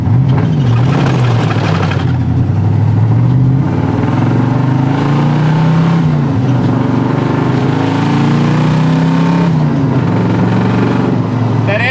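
A loud Chevrolet Camaro with aftermarket tailpipes rumbles and pulls away while driving, its engine note climbing and settling in waves under a voice, up close.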